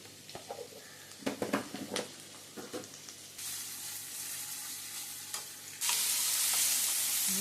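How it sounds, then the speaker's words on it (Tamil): Grated coconut and curry leaves sauté in a pan for a village-style mutton kulambu masala, with steady frying sizzle and scattered stirring scrapes, growing into a louder, brighter hiss toward the end. "சின்ன தேங்காயில் ஒரு 1/2 மூடி எல்லாம் சேர்ந்து நல்லா வதங்கட்டும்."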